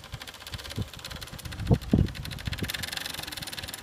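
Electric bicycle hub motor spun by hand to generate voltage, giving a close mechanical whirring hum that swells with a couple of louder knocks before settling into a steady rapid rotation.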